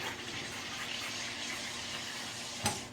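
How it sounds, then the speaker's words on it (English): A sparkling water maker carbonates a hibiscus orange drink, a soft steady fizzing hiss at low level followed by a brief sharp burst near the end, with no voices. "that sparkling water maker with the hibiscus orange refresher"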